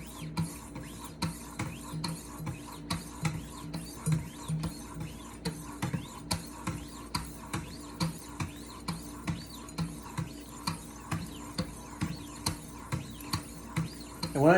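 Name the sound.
sharpening a long kitchen knife on a guided stone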